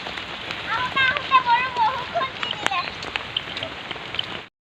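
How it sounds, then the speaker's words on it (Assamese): Heavy rain pours down steadily and loudly throughout, close by and continuous, with a voice faintly speaking beneath it. "একদম বৰষুণ দবা পিটা বৰষুণ"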